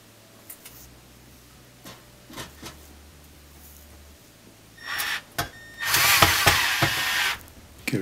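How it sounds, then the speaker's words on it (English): A power driver sets Phillips head screws into an oven: a faint low hum and a few clicks at first, then loud bursts of whirring near the end as a screw is driven home. "then we'll just add those two Phillips head screws"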